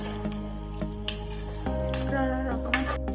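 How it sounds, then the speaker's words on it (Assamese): A spoon scrapes and clinks around a pan over a steady sizzle, with light metallic taps as paneer is turned, close and moderately loud. "ঢালি পেলাই অকণমান লৰাই দিব।"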